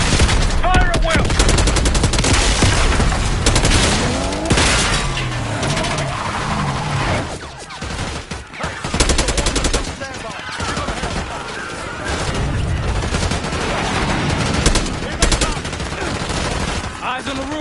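Sustained heavy gunfire in a Call of Duty: Black Ops 6 mission assault on a presidential palace gate, loud dense bursts running almost continuously with shouted voices mixed in.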